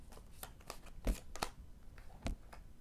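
Tarot cards shuffled by hand in a quiet room, giving a few soft riffling bursts with brief pauses between them, close and fairly quiet, with no talking.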